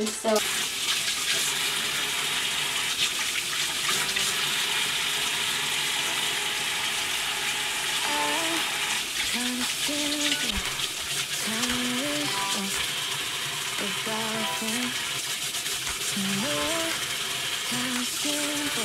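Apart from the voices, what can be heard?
water running at a sink while makeup brushes are washed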